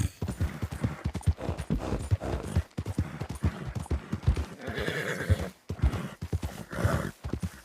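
A horse in a video game whinnies loudly while hooves clip-clop in a busy, continuous rhythm, mixed with dense game sounds and movement throughout.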